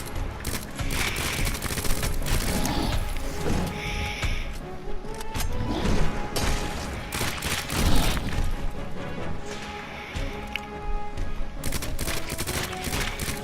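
Repeated gunfire and heavy impacts aimed at a boss in Resident Evil 2 Remake, loud bursts and crashing booms packed closely together across the whole stretch, with occasional brief lulls between volleys.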